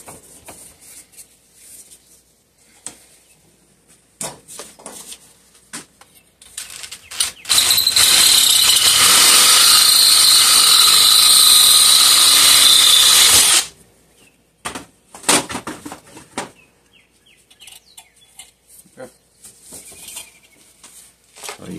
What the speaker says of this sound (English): So I'm going to drill it out to 3/8.